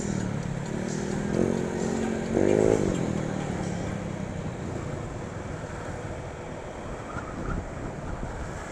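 A motorcycle with an open exhaust pipe passes on a road near a school. Its loud engine roar rises briefly in the middle, over steady wind noise.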